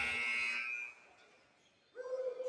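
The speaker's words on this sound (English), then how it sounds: "And that'll be at the buzzer." A shot clock buzzer sounds at the end of a quarter in an amateur basketball all-star game, a loud harsh drone lasting under a second, then a lull and another steady tone.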